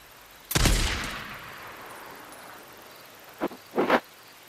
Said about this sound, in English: Well, I'll take you out my sniper, then.